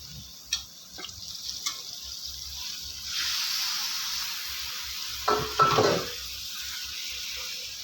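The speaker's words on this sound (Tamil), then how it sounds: "இப்போ நம்ம சிக்கனை சேர்த்துடலாம்" Chicken pieces go into a Madurai-style pepper masala. A few utensil taps come first, then a sustained frying hiss with a brief burst of stirring scrapes and clatter near the end.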